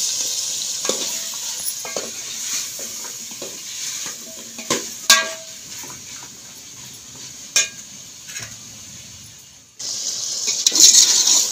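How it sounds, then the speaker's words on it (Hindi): Potatoes and meat sizzle and crackle in a hot pot while a utensil scrapes and clinks against the metal, with the sizzling swelling louder near the end. "आलू पा के थोड़ा जिहा भुनते हैं।"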